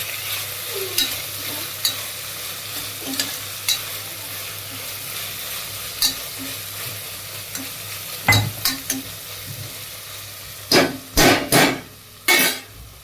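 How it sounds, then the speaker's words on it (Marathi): Garlic paste frying in a pan for home-style pav bhaji, stirred with a spoon: a steady low sizzle underneath, broken by scattered scrapes and then a cluster of louder, sharper scraping strokes near the end. "लसूण पेस्ट टाकून घेऊ"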